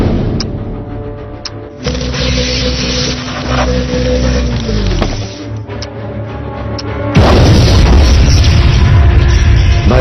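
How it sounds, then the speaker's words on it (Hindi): Deep booming blasts of an exploding laboratory in a Hindi-dubbed superhero film, with a loud rumble that swells and surges, ending in a heavy roaring burst. "भयंकर विस्फोट हुआ"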